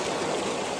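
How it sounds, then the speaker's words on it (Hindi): Water falls steadily into a large canal, giving a continuous close rushing wash with no pauses. "ये पानी गिरता हुआ नज़र आ रहा होगा"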